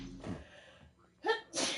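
A single sneeze from a nearby person, a sharp breathy burst followed by a second short blast, with some faint voice and game sound around it.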